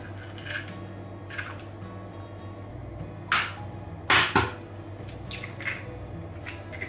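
Two eggs are cracked and added to a cake mix: quiet background, then a few sharp cracking taps with brief squishy drips, faint and close.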